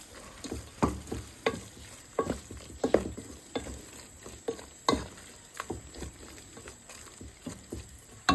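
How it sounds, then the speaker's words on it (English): Cheese kottu roti frying in a pan while being stirred, steady sizzle under repeated scraping and clattering strokes of the utensil, close and fairly loud, with no talking. "Just keep stirring."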